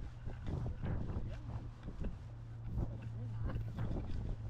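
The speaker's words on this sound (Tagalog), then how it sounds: "Lakas ng hangin." Strong wind gusting outdoors, probably by a boat on the water, roaring steadily against the microphone with rumbling buffets throughout, and a low engine-like hum underneath.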